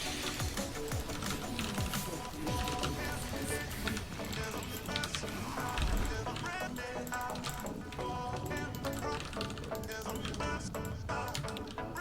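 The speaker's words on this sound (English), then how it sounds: "the keyboard is so loud you couldn't hear the commentary anyway" Loud computer keyboard typing during a Zerg game session, rapid dense clattering keystrokes running throughout, mixed with game sounds and voices.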